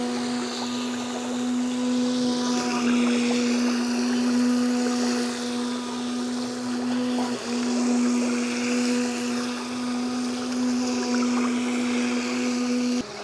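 A Pro Boat Jet Jam RC jet boat motor runs in a pool, a loud steady high electric whine with a strong tonal hum and water spray, continuous and close.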